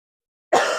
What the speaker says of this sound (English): I'm going to get into that comfortable position by allowing myself a little cough to clear this head cold.